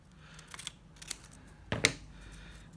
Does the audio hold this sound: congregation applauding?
no